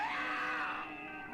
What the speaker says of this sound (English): Pain scream.